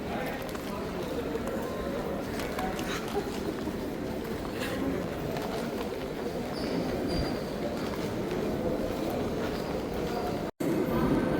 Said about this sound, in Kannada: ನೋಡಿ, ಇವಾಗ ಮೆಟ್ರೋ ಬಂತು, ಮೂವ್ ಆಗ್ತಾ ಇದ್ದೀರಿ ಮನೆ ಕಡೆಗೆ